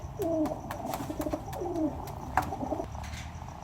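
Teddy breed pigeons coo softly at close range, several rising and falling calls in a row against quiet background noise.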